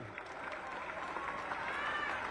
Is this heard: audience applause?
yes